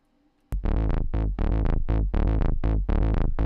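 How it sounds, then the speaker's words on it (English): A Cwejman modular synth filter, sequenced from Ableton through a Hermod module, plays a basic line of short, bright, buzzy notes in a steady rhythmic pattern, loud and close, with no talking. "So this is the Cwejman being sequenced by Ableton via the Hermod"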